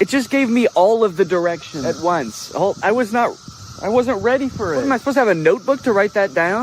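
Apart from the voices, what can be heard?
cicadas buzzing outdoors in Illinois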